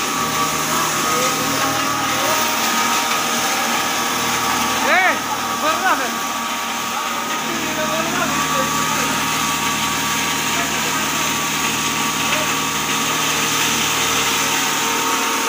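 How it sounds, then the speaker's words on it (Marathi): A maize grinding mill (bharda machine) driven by a 10 HP motor runs with a steady, continuous mechanical drone and whine, a voice briefly heard over it. "त्याच्यावर आपण 10 HP मोटर टाकलेली आहे"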